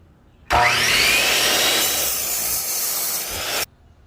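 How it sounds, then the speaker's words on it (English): Miter saw slicing through a piece of scrap wood, a single loud cut lasting about three seconds that starts abruptly, whines and rasps through the board, then stops, with no talking. "I'm using a miter saw, but you're more than welcome to use a hand saw."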